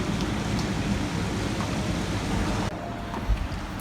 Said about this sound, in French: Mais dehors il pleut. Et c'est vraiment incroyable le bruit.